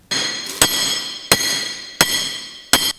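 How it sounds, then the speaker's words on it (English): A hammer strikes an anvil four times at an even, unhurried pace, each blow ringing out bright and metallic before the next hit. "The sound of a hammer beating on an anvil."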